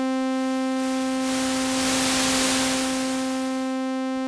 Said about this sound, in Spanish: Podemos agregarle ruido blanco